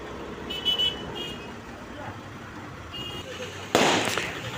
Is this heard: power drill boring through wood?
no